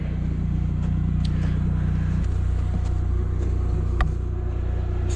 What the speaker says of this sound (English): If you can hear the generator running in the background